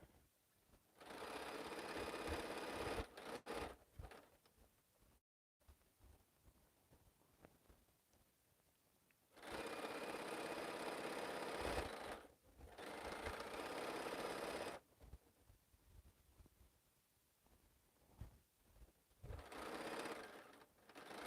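A Bernina sewing machine stitching in bursts controlled by a foot pedal, its fast mechanical whir running for a few seconds at a time with quiet pauses between runs.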